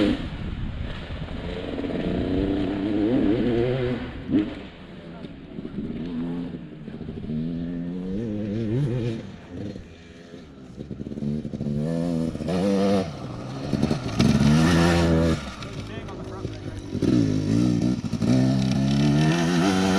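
A motorcycle sweeps through a series of corners during rider training, its engine revving up and easing off again and again, loud and close, with brief clattering between throttle changes.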